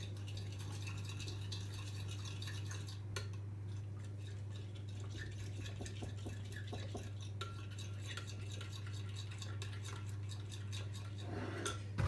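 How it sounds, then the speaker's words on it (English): A spoon stirs buffalo wing sauce in a pot, soft scraping and light metallic rattles over a steady low hum, fairly quiet with a small clatter at the end. "Give this all a quick stir."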